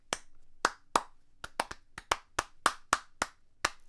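Hand claps tapping out the punchy rhythm of a pop song's verse melody, about a dozen sharp, close claps in an uneven syncopated pattern, heard alone with no talking.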